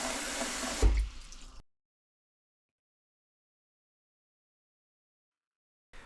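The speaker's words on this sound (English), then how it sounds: "we pour water into the pot and let it heat up" Water runs into a cooking pot for about a second and a half in a home kitchen, a brief close splashing pour that stops abruptly and leaves silence.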